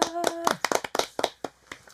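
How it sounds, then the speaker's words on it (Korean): A few people clapping close by in a small studio, a quick burst of uneven sharp claps that thins out, with a brief voice at the start. "우리 1화 때처럼 박수 한번 크게 치고 시작할까요?"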